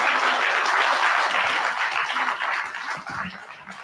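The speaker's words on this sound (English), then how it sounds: "Give a big applause to all the people who participated on those 9 days." Temple audience clapping for participants of a nine-day Navarathri program, a full, continuous round of applause that starts loud and gradually thins toward the end.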